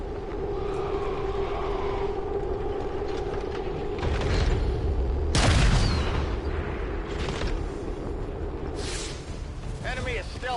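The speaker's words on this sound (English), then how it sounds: "The shockwave of that explosion reverberated throughout most of the city" A heavy boom and rumbling blast from the video game XCOM 2 War of the Chosen, with a loud low-end surge near the middle amid other game effects and clatter, a voice speaking briefly in places.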